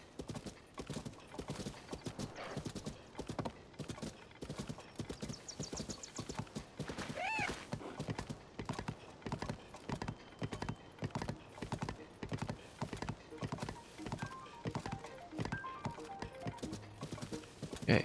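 A horse trots in Zelda: Tears of the Kingdom, a steady rhythmic clip-clop of hooves running throughout, with one brief whinny around the middle and a faint game music bed underneath.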